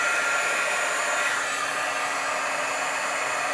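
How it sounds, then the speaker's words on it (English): A heat embossing tool blows hot air onto a card, giving a steady, loud, close whirring hiss with no break and no voices. "start embossing the other side of our card"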